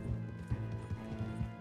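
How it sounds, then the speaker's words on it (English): Horse hooves clip-clop steadily on the ground in Red Dead Redemption 2, a regular rhythmic series of soft thuds under a low musical and ambient background. "Yeah, I think this is my horse."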